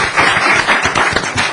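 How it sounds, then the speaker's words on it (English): Brief burst of audience applause at a city council meeting, dense clapping from a room of people, fairly loud and steady with sharper individual claps standing out. "Yes, round of applause."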